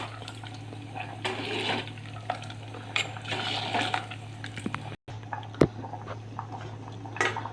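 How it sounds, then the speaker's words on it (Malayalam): Koottu curry with chili powder is stirred in a pot, with a spoon clinking and scraping against the metal in faint, irregular bursts over a steady low hum, and no talking. "ഇളക്കി ചേർത്ത് കൊടുക്കാം."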